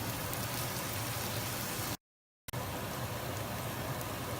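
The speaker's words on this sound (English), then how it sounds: "And then we're just gonna fry it." Chicken gravy with flour and yogurt sizzling and frying in a pan for fried chicken drumsticks, a steady loud hiss like rain, broken by a brief silent gap midway.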